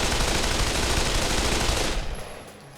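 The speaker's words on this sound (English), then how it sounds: "So with the M4, I'm just going to go ahead and completely empty it out." An M4 rifle in Pavlov VR dumped on full-auto, a dense, continuous burst of rapid gunfire lasting about two seconds, then cut off with a short fading tail.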